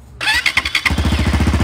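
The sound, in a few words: Crossfire motorcycle engine starting with one press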